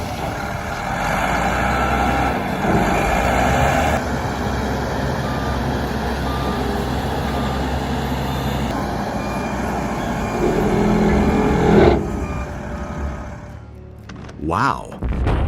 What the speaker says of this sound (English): This machine moves flexibly, shoveling effectively in harsh and challenging underground conditions.